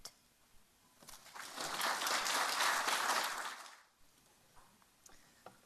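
An audience applauds students at a family stories festival, a swell of clapping that builds over about three seconds and then fades, with brief murmurs before and after.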